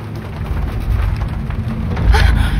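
Rain and storm in the video game Shadow of the Tomb Raider, heavy steady rainfall with a low thunder rumble swelling near the end, loud and enveloping with no talk.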